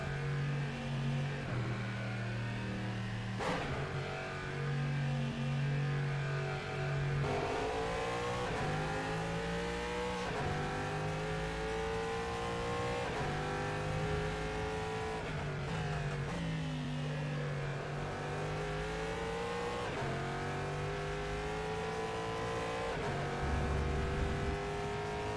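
GTE race car engines in the rFactor 2 sim racing game, steady droning whine that rises and falls through gear changes and revving, constant and fairly distant with no talk.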